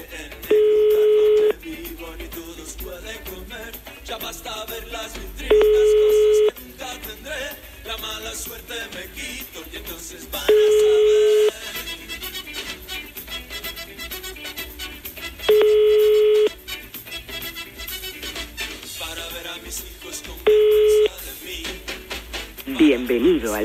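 Telephone line tones during a call: a regular series of long, steady ringback beeps repeating about every five seconds over music and talking voices.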